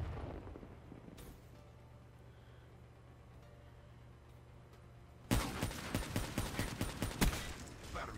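Rapid burst of loud gunfire in the video game Black Ops 3, sniper combat, erupting after a quiet stretch as a series of sharp, evenly spaced cracks close to the listener.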